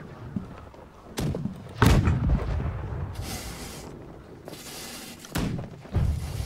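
Ship cannons firing in the pirate naval game Blackwake, several heavy booming shots with sharp attacks spaced irregularly over a rumbling, noisy background.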